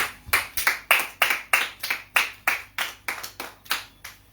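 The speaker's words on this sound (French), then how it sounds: "Acclame d'abord pour Jésus." A church congregation claps for Jesus in a fairly quick, regular rhythm, about a dozen sharp, evenly spaced claps close by with nothing else over them.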